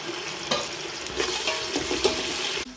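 Tomato paste goes into onions and coriander frying in a pan for Hyderabadi dum biryani, giving a steady close sizzle with a few soft stirring scrapes and clinks, no talk.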